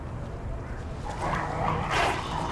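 A dog in the video game Lies of P gives a few short barks and yips over a low game soundscape, moderately loud.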